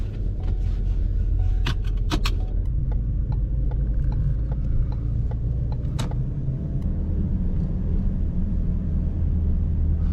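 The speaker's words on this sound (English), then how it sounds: "I'm just gonna drive around the parking lot to make sure the car actually can sustain under load." A car drives slowly around a parking lot under load, a steady loud low engine rumble throughout with a few sharp clicks and rattles from the cabin.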